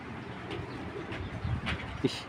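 Female Giribaz pigeon cooing in short, soft low bursts close by, over a busy background hum with faint murmur of people.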